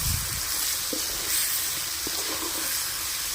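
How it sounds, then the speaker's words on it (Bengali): Chicken pieces with salt and spices sautéing in a pan for chicken do pyaza, giving a steady, close hiss and sizzle with a few faint scraping ticks, and no voices. "এবার এগুলো খুব ভালো করে সমস্ত উপকরণ দিয়ে কষিয়ে নেব"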